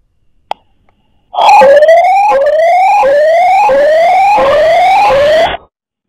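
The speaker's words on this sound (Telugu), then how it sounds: "సీసీ కెమెరా సైరన్ మోగటంతో సెకండ్ల వ్యవధిలోనే దొంగ పరారయ్యాడు" A CCTV security camera's alarm siren blares loudly at night after a short click, cycling through about six rising whoops in steady rhythm, close and alone.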